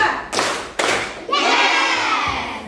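A classroom of children doing a counted clapping rhythm game: two sharp, loud group claps in quick succession, then a louder burst of clapping and shouting that carries on to the end.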